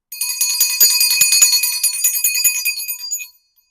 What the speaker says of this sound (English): We're going to use my mom's bell